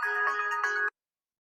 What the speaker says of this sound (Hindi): देखी हमार भाई फोन करता